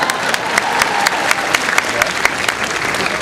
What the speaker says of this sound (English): You can applaud to that if you want.